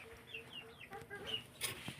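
A chicken clucking close by, a few short soft calls in quick succession against a quiet rural background, fairly faint overall.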